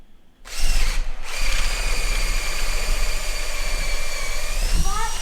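A power drill starts up after a brief quiet and runs loudly and steadily, a droning motor whine with a short dip before it resumes.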